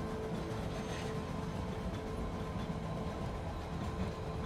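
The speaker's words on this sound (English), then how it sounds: "The wheels squeal a bit on the tracks, but the train keeps on moving." A train rolls steadily along the tracks with a continuous low rumble and a faint high wheel squeal, heard close and alone for several seconds.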